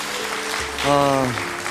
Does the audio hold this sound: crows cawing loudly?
no